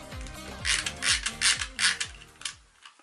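A toy copy of a Leica film camera has its mechanism worked while the shutter will not release, giving a run of close, dry ratcheting clicks and gear whirs in a steady rhythm, with no voices.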